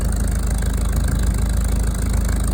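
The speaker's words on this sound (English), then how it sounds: "Man, this is a nice running tractor." Farmall H tractor engine running steadily at idle, a loud, close, even low chugging throb with no talk over it.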